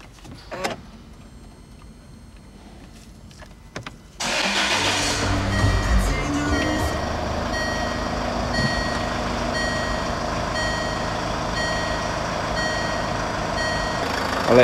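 A 2013 Range Rover Evoque with the 2.2 DW12 Duratorq diesel, after a cambelt and water pump change, cranks and fires after a few quiet clicks and chimes, then settles into a loud, steady, clattering idle heard up close.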